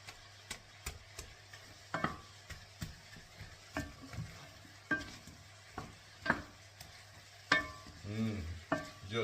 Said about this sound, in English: Just meat and onion smells wonderful when you fry it, doesn't it?